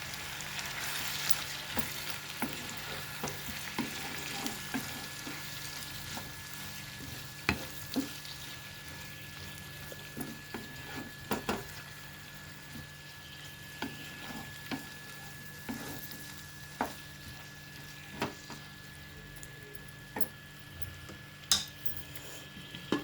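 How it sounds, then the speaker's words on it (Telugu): A quarter kilo of tomatoes fries in a pan for a curry: a continuous sizzle with regular stirring clinks and scrapes throughout, no talking. "టమాటాలు వేసేస్తున్నాను. పావు కేజీ టమాటాలు తీసుకున్నానండి."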